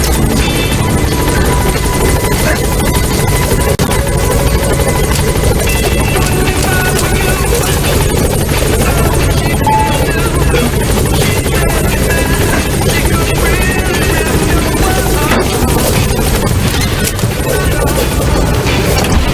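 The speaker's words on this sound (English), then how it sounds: "Support helicopter has arrived." Support helicopter in Metal Gear Solid V: a loud, continuous rotor and engine drone that holds steady throughout, layered with dense game sound effects and occasional crashing impacts.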